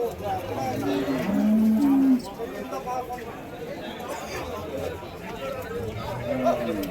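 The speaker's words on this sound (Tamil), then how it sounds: "மேற்குத்தி பசுமாடுங்க" Cows mooing at the busy Vaniyambadi cattle market in Tamil Nadu, India, a long low moo rising clearly near the start while other cattle call faintly around, with crowd chatter and people talking throughout.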